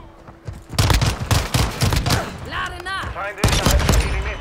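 Automatic gunfire from an SMG rattles in multiplayer Call of Duty: Modern Warfare II, sounding as loud rapid bursts with a brief pause, then a ringing headshot cue and one more shot burst, all dense and close.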